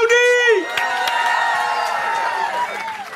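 A crowd cheers and whoops at a lively Dutch CD launch party, with a loud shout at the start followed by sustained, dense voices and cheering.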